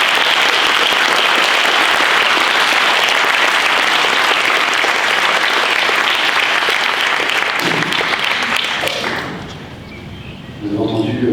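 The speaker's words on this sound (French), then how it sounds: "On peut les applaudir." Loud, sustained applause from a crowd at an eloquence contest final, thick and continuous for most of the stretch before it fades quickly and a few scattered claps remain.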